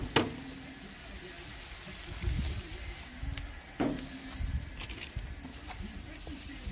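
Chicken smash burger patties sizzle on a grill grate with a steady, soft hiss and occasional small pops and crackles. The sound is fairly quiet throughout.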